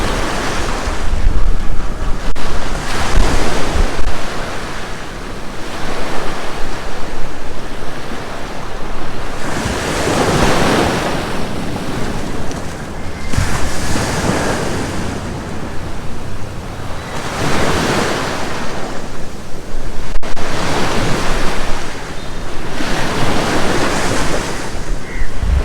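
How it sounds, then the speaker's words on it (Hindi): Large ocean waves roll in and crash repeatedly in a slow rhythm on Maafushi beach in the Maldives, with a constant wash of surf and wind buffeting the microphone in between. "इधर कंपैरेटिवली जो है ना वो लहरें बड़ी आ रही हैं।"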